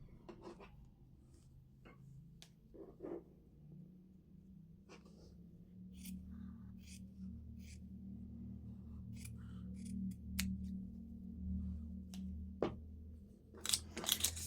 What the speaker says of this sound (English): So I'm just going to cut a piece away from here.